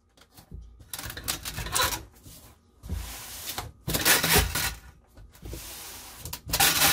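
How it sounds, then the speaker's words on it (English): A handheld tape gun dispenses packing tape while a lamp is boxed for shipping, giving several loud, close ripping screeches in bursts with short quiet gaps between pulls. "sometimes the tape gun is too efficient"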